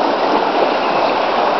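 Creek water rushes steadily beneath a rope bridge tied to a tree, a loud, continuous broadband flow with no break and no voices.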